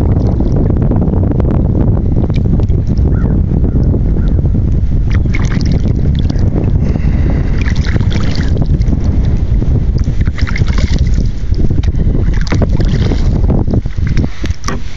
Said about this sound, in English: Little breezy out here today.